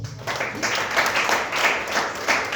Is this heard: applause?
yes